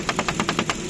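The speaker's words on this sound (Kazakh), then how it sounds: "Мотор жагы четкий иштеп турат" A 2017 Kia Rio with a 1.6 engine and automatic gearbox idles up close, giving off an even, rapid series of knocking pulses with a steady mechanical beat.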